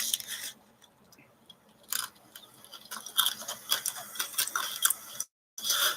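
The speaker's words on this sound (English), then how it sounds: "Eating a cheesy Gordita Crunch." Biting and chewing a Taco Bell cheesy Gordita Crunch, close up, with crisp crunches of the shell in bursts of uneven chewing and short pauses between bites.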